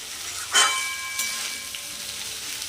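Greens fry in a pan with garlic, green chili, salt, a little sugar and poppy seeds, giving a faint, steady sizzle with one brief stirring scrape near the start.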